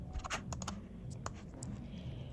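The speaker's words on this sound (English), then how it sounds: "I'm going to click on T on my keyboard, and I'm going to type" Computer keyboard typing while working in Figma design software, a quick burst of irregular key clicks, close and fairly quiet, with no talking.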